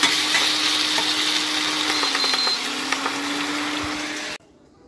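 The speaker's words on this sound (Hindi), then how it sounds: "भून लेते हैं थोड़ी देर" Vegetables sautéing in a pan give a steady, close sizzle with faint stirring scrapes that cuts off abruptly near the end.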